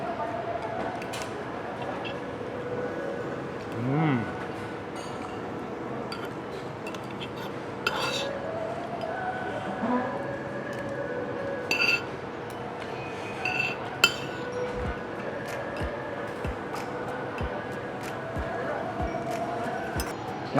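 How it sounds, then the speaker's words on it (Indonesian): A spoon stirs noodle soup with chili oil in a bowl, giving scattered light clinks and scrapes against the dish, with soft voices in the background. "Kita aduk-aduk pakai chili oil biar ada sedikit rasa pedesnya"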